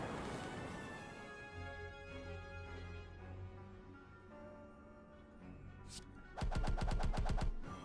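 Barrage card attack in Slay the Spire: after a lingering musical tone, a loud rapid burst of evenly spaced electronic zaps fires off in quick succession near the end.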